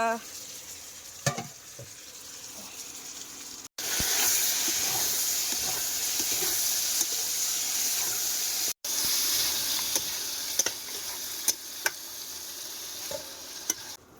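Meat fries in a wok at a village in the Sundarbans, a steady loud sizzle and hiss broken by scraping stir strokes, with a few brief clicks and knocks, up close.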